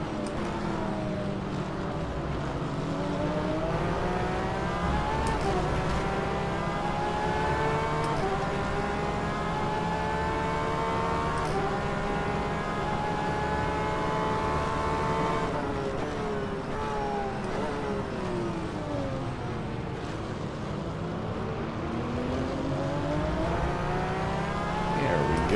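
Porsche race cars in the rFactor 2 sim racing game run at high revs with rising and falling engine pitch through gear changes, as other cars stay close nearby. A voice talks faintly over the engines.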